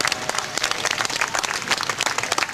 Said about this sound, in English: Nice round of applause for Sir Percy.